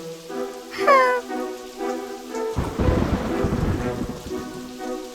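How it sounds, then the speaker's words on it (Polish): A cartoon thunderstorm: a sharp rising squeal and stray tones give way to a sudden loud thunder crash and heavy pouring rain that keeps rumbling and hissing for several seconds. "Ale paskudna burza!"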